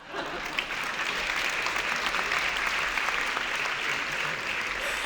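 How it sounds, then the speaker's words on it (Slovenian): An audience at a Slovenian podcast talk about brain health claps throughout, dense, even applause sustained at a steady level from start to finish with no break. "Še enkrat en velik aplavz"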